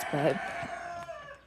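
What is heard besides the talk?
rooster crowing indoors on farm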